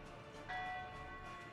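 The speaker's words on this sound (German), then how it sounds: "Mit Glockengelöte." Church bells peal in the city-building game Workers & Resources, a bright struck tone sounding at about half a second and ringing on with a slowly decaying metallic hum, faint and alone.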